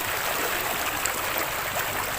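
River water flows over rocks at the Daraitan river in the Philippines, a steady, fairly loud rushing stream with no voices.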